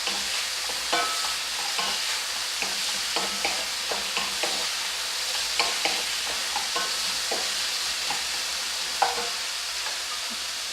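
Pieces of pork chop are stir-fried in a sauced pan, with a constant bright sizzle running beneath repeated scraping and stirring strokes that land at a fairly regular pace.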